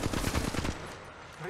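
Rapid automatic gunfire from Apex Legends Mobile rattles in a tight burst for most of a second, then cuts off into quieter game ambience.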